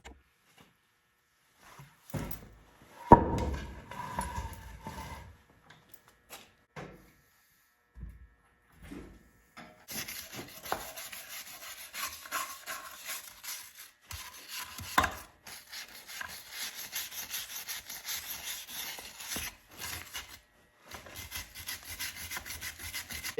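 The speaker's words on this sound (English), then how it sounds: "Sanding off the timing marks so later we'll be able to see it when we're timing the engine." Sanding away the timing marks on an engine flywheel while fitting a two-stage clutch: steady abrasive rubbing and scraping strokes, near and continuous in the second half after a few scattered knocks and handling noises, with no talk.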